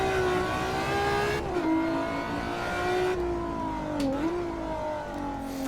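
Ferrari F50 from the mid-1990s in the racing game Assetto Corsa, its engine holding a loud, steady high rev with a few brief drops and pickups as the car is driven hard, heard alone.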